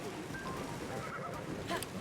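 A horse whinnies in the video game The Legend of Zelda: Tears of the Kingdom, a short, fairly faint neigh near the end set against steady game ambience.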